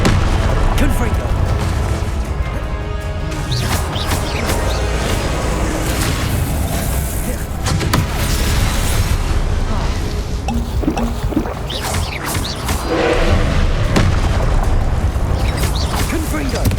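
Confringo fire spell explosions from the Hogwarts Legacy video game during a boss fight: loud booming bursts and crackling blasts layered over dense, continuous game noise, with a voice speaking at times.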